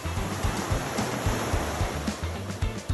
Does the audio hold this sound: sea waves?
yes